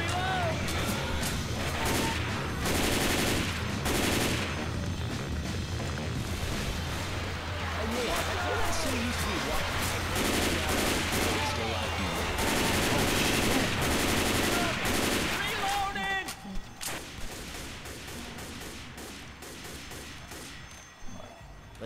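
Sustained Left 4 Dead 2 gunfire rattles in dense, rapid bursts with layered automatic weapons and crashing impacts, loud and close, thinning into sporadic shots toward the end.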